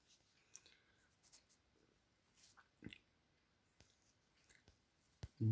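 A black pen writing on paper, quiet scratchy strokes in short bursts with pauses and a few faint clicks, close and very soft.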